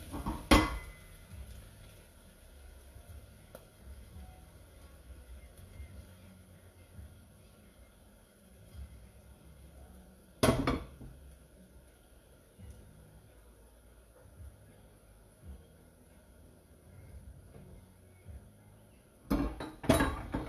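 Oats khichdi is sautéed in a pan on a home stove: a quiet stretch of faint stirring broken by a few sharp metallic clanks of utensil against pan, spaced several seconds apart.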